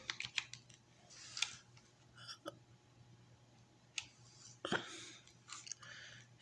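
Quiet clicks of keys on a computer keyboard as an ID card number is entered into an online verification form, coming in short irregular bursts with pauses between them, with no talking.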